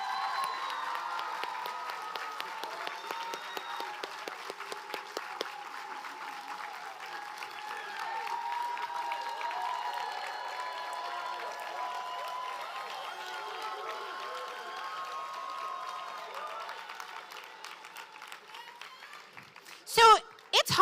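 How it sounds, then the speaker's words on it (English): An audience applauds top graduates on stage at a Goodwill graduation ceremony at the Georgia Aquarium, sustained clapping from a large crowd that fades out toward the end. "Let's give them a round of applause."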